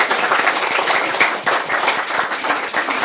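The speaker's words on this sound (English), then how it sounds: "Give him a round of applause." A crowd at a 21st birthday celebration gives a steady round of applause for the young man who built a bed with a footboard, many hands clapping in a brisk, even wash of sound throughout.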